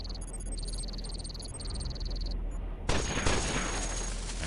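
Nova cannon fire in Cogmind, a synthetic electronic tone pattern with repeated beeping pulses giving way to a sudden broad roaring blast that sustains to the end.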